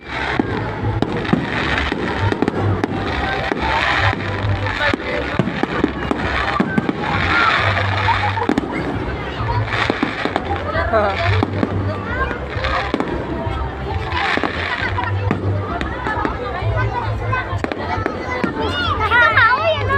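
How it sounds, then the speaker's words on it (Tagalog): Fireworks burst repeatedly at a New Year event in Puerto Princesa, loud crackling and thudding explosions going on through the whole stretch, with a crowd and children's voices audible beneath. "Pagkatapos nga pala ng main event, yun nga pala yung fireworks display."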